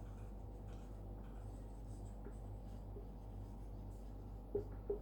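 Pen scratching steadily on paper while working out a maths problem, faint and close under a constant low background hum, with a couple of light taps near the end.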